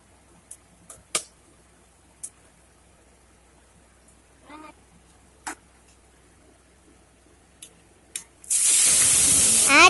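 Spices hit hot oil in a pressure cooker with a sudden loud, sustained sizzle near the end, preceded by a few sharp clicks and taps of setting up in a quiet kitchen.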